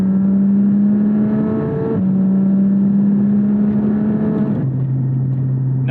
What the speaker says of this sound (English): I love that the PDK lets you downshift right up to red line